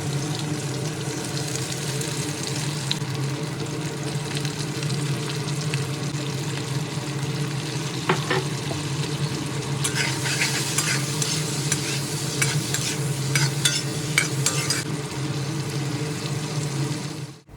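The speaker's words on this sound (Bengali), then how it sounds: "এই তেলের মধ্যে আলুর টুকরোগুলো দিয়ে সামান্য লবণ ও হলুদ সহযোগে ভালোভাবে নেড়েচেড়ে হালকা লালচে করে ভেজে নেব" Potato pieces with salt and turmeric sizzle steadily in hot oil in a wok, a dense constant frying hiss with scraping stirs and clinks of a spatula coming through in the later part.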